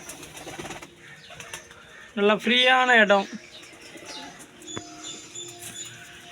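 Pigeons kept by a hobby breeder coo with a loud, tonal burst in the middle, framed by quieter chirps and light background sounds, with someone talking nearby.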